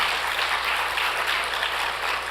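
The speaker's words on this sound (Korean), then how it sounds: "우리 다시 한번 박수 올릴까요?" A church congregation at a testimony gathering breaks into dense, even applause, a continuous wash of many hands clapping throughout.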